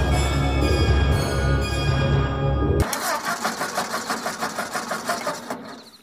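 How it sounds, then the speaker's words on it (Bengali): Car engine cranking and failing to start in a Bengali horror audio drama: a loud droning engine sound cuts off, then a rapid rhythmic starter churn repeats about a dozen times and fades without catching, no voices. "এধার ওধার অনেক চাপাচাপি করেও গাড়ি স্টার্ট নিতে চাইল না"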